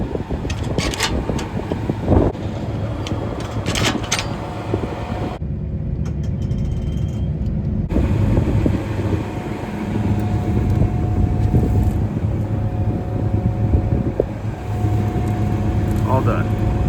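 Tractor on a dairy farm backing up and pulling in to park, its engine droning steadily and loudly near the microphone with wind noise, rising briefly partway through as it moves.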